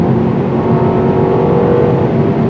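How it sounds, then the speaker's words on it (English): A 2024 Mercedes CLA250 with a small turbocharged engine pulls hard under acceleration, giving a loud, steady drone of engine and road noise that holds for the whole stretch without a break. "This little turbo motor seems to have more horsepower than advertised."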